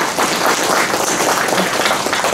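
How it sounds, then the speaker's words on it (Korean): Applause from a school alumni reunion crowd honouring a billiards tournament winner, a steady, dense wash of many hands clapping together with no pauses. "박수 한번 보내주시죠"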